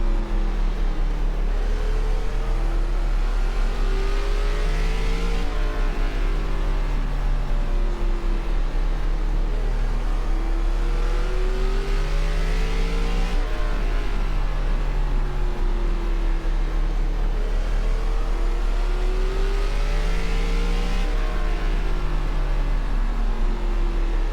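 ARCA race cars accelerating at Irwindale in iRacing, a loud continuous engine drone whose pitch climbs and falls repeatedly as the cars run through the gears, with no talking.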